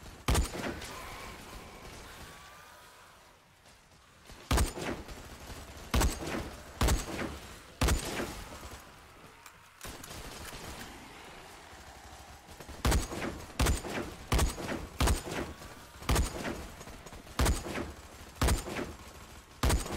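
Rifle shots firing at zombies in the Dead Frontier 2 video game, sharp loud cracks at uneven intervals, some spaced and some in quick runs, over a low ambient background.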